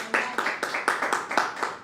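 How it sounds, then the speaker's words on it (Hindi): A church congregation at a Hindi-language sermon claps in quick, rhythmic bursts, several close claps in under two seconds, fairly loud and near. "जोरदार तालियां खुदा"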